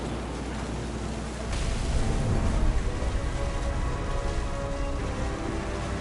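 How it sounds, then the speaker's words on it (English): Heavy rain and thunder in the video game What Remains of Edith Finch form a dense, steady downpour. A deep rumble swells about a third of the way in and rolls on under the hiss of the rain. "Thunder sounded much too close and full of angry power"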